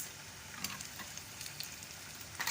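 Dried red chilies and mustard seeds sizzling in hot oil for a spinach curry, a steady crackling fry with small pops and spits throughout, close and moderately quiet with no talking.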